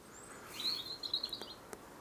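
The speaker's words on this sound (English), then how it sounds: "Hear the birds in the trees." Bright, high bird chirps and short tweets ring out over a quiet outdoor background, a few quick calls clustered together.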